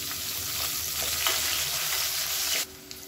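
Sliced large onions sizzle and crackle steadily in a hot pan, a continuous frying hiss that cuts off abruptly near the end.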